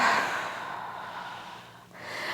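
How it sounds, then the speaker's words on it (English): A single big yawning breath is taken during a Pilates stretch for runners, starting as a loud, close, airy inhale that fades and then rises again into a breathy exhale. "We're going to take one big yawning breath."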